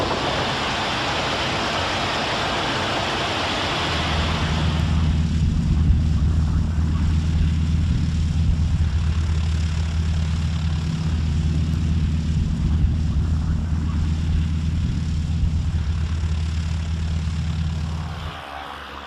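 A North American T-6 propeller trainer drones steadily in flight, its deep engine and propeller hum loud and continuous from a close cockpit position, with airy wind noise early on and the sound easing off at the very end.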